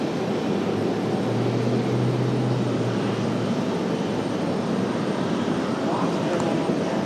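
A JetBlue jet in NYPD livery arriving at Raleigh-Durham airport from Charlotte, a continuous broad engine roar that holds steady and loud, with a voice speaking over it.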